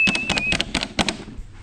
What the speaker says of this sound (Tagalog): Pag nadinig nila yan, yung ingay ng galon